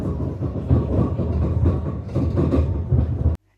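A mountain train near Lauterbrunnen, Switzerland, rolls slowly along its rails, giving a steady loud rumble with rhythmic clattering of the wheels that stops abruptly at the end.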